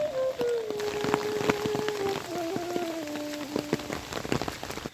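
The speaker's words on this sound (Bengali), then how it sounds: "চারপাশে একটাই শব্দ বৃষ্টি" Steady rainy-season rain patters beside an overflowing river and muddy fields, with scattered distinct drop taps, while a faint wavering tone runs through the background.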